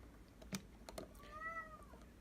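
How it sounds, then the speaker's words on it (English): A male house cat meows once, a single drawn-out, rising-then-falling cry asking to be let out of a bedroom, heard close and fairly quiet after a few soft taps and clicks. "It's my cat."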